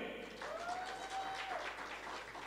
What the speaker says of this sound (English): Can we welcome them with a big round of applause?